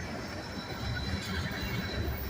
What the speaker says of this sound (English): yeah, the wheels making a bunch of noise.